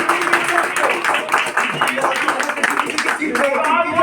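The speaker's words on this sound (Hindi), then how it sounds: "जोर से बोलिएगा, ताली मारिएगा।" Audience clapping in a hall, a steady patter of many hands with voices calling out over it, ending in a shout.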